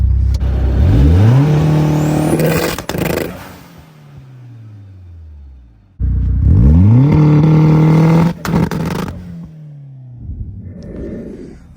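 A big-turbo Mitsubishi Eclipse/Talon 2G engine revs hard twice, climbing sharply with crackling anti-lag pops, then winding down between bursts; loud and close.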